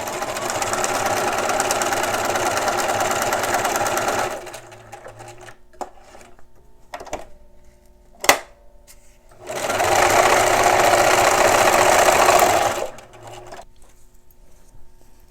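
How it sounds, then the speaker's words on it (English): A home sewing machine stitches across fabric for an angel ornament made from jelly-roll strips, running in two steady buzzing bursts split by a quiet pause with a few clicks and one sharp knock. "with my sewing machine I'm going to sew right across the center"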